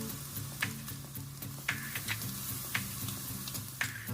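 Onion and garlic fry in a pan with a steady close sizzle, broken by several sharp clicks and scrapes of stirring spread across the few seconds, no voices.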